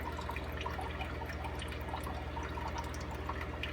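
Water drips steadily into an aquarium system for shell-dweller fish, a faint, regular pattering over a constant low hum.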